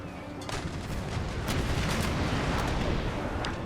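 Warship cannons firing a broadside in an Empire Total War naval battle, a dense rumbling barrage of overlapping booms and cracks that runs continuously at full loudness, no talking.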